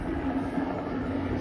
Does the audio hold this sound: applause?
no